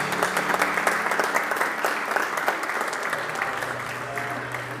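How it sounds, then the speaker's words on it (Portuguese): Strong audience applause at a grant award ceremony, many hands clapping in a loud, continuous wash with individual sharp claps standing out, and a faint low hum beneath. "Um forte aplauso."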